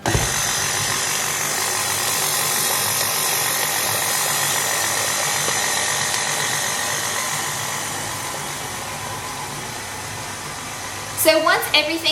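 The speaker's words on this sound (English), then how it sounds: "I'm going to put this into our mixer and we're going to mix that up until it just comes together" An electric stand mixer runs on low, blending vegan eggless cake batter with a loud, steady whir that lasts throughout and ends in a few brief clattering knocks.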